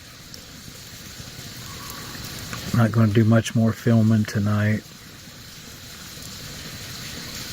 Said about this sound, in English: Got the sound of the water running.